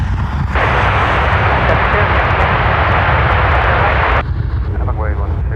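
An American airliner bound for Philadelphia takes off from runway 10R at Dublin Airport, its engines building a loud, broad roar that holds for about four seconds and then drops away, with someone talking over it.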